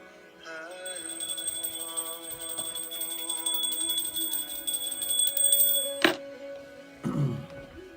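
A single bell rings out with a long, sustained metallic tone that slowly decays, cut off abruptly, followed by a brief rustle.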